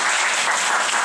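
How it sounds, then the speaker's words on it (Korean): A brief, dense burst of audience clapping in a church congregation, loud and steady for its full second with no voices. "박수 한번 쳐야지."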